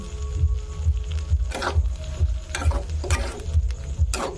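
Cut potatoes fry in a pan, a low, moderate sizzle with a throbbing burner rumble underneath, punctuated by several crisp scraping strokes of a spatula stirring them.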